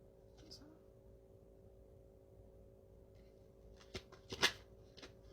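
Tarot cards are shuffled for a clarifying draw, with soft riffling and a few sharper card snaps near the end over a low steady hum; quiet and close, with no talk.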